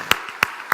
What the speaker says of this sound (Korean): 예, 박수 한번 쳐주세요.